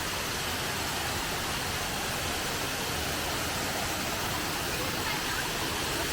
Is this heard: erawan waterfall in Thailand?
yes